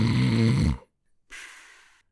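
A storyteller's voice imitates a giant snoring: one loud, deep, rumbling snore, then a short silence and a softer breathy exhale, close and alone.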